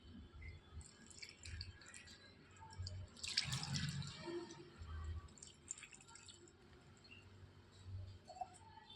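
Water from a glass pours into a pot of ponnaganti leaves with turmeric and tamarind, giving a faint splash and trickle that peaks briefly midway, with quiet dripping around it.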